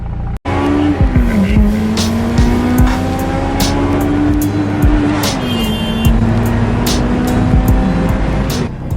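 A Honda S2000 with an idle air control valve issue is driven hard, its engine note rising and falling steadily throughout with tire squeal and skidding sounds, loud and close.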